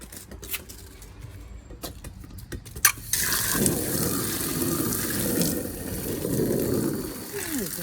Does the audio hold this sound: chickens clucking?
no